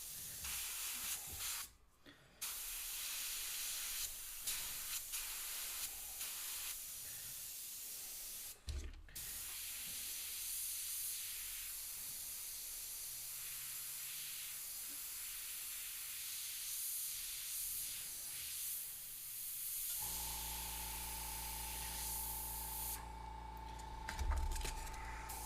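An airbrush hisses steadily for long stretches, close by, with brief pauses and a few clicks, then a louder compressor hum joins near the end.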